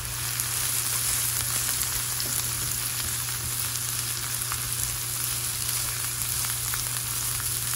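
Onions and peppers frying in a pan, a steady, even sizzle with a constant low hum beneath it, alone and continuous without talking.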